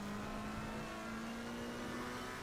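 A Porsche race car engine in a racing game at Watkins Glen holds a steady, loud drone that climbs slowly in pitch as it revs, with no voices.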